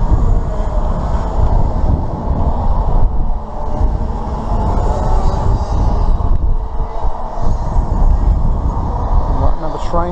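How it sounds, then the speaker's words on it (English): A train passes by a racetrack during a family day out magnet fishing: a loud, continuous broadband rumble and roar fills the whole stretch, steady with slight swells, close and dominant in the scene. "Got another train coming through."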